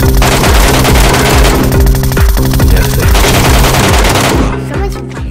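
Loud, unbroken automatic gunfire in the video game Metro escape mode (地铁逃生), with rapid, evenly spaced shots that run for several seconds before tapering off near the end.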